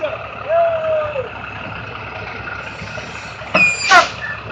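City bus air brakes letting off a sharp hiss burst near the end, over a low idling engine rumble, with a short squeal earlier.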